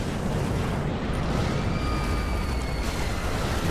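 A nuclear explosion in the video game Megaton Rainfall, played on PS4 Pro in VR, rumbles as a loud, continuous low roar with faint tonal whines over it and no talk.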